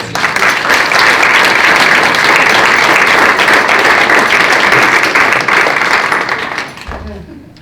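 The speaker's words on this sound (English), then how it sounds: "please give her a round of applause" A live audience at a mural event in Allen Park gives a loud, sustained round of applause that runs steadily for about seven seconds, then quickly tapers off into room quiet.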